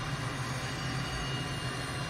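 Twin engines of a light trainer aircraft in Microsoft Flight Simulator drone steadily at close range, a continuous low rumble with a whining hum layered over it, unbroken and with no voices.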